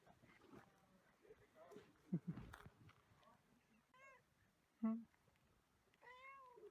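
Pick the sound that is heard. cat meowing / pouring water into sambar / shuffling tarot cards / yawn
cat meowing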